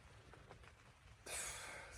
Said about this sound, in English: The rain's just started to pick up now, so I can't hear nowhere near as much as I could before